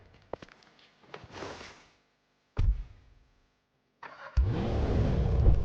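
A Maserati SUV engine in GTA 5 cranks and catches, then settles into a loud, steady idle after a few brief mechanical clicks and starts.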